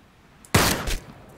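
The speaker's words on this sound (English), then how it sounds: "Headshot with the sniper rifle." A sniper rifle shot in the battle royale video game Ring of Elysium: one sharp, close blast with a short rumbling tail, then a quieter follow-up thump, with no talking.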